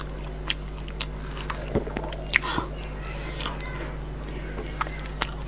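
Someone bites into and chews a layered dousong xiaobei pastry up close, making a few soft, scattered crunchy bites and quiet chewing sounds over a steady low hum, with no speech.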